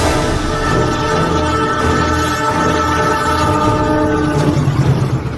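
A train passes close by in Lamongan, Indonesia, loud and continuous throughout, with sustained horn-like tones over heavy rumbling rail noise that eases slightly at the end.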